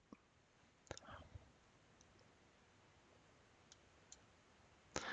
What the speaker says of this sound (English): So I'm panning by just left-clicking and holding, and I'm zooming in and out by my scroll wheel